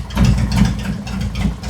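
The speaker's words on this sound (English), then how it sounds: "Listen how effortlessly this bike is running. It's not struggling to idle." A 2018 Harley-Davidson Road Glide with the 114 V-twin idles smoothly, a steady low rumble with an even, loping pulse, heard close and alone.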